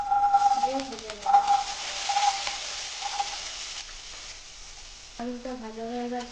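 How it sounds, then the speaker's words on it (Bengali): Potato pieces fry in hot oil in a kadai seasoned with salt, turmeric and chili powder, giving a broad, steady sizzle with a swell in the middle. Brief tonal, voice-like sounds come in at the start and the end. "তেলে আলু দেবো, দিয়ে ভেজে নেবো।"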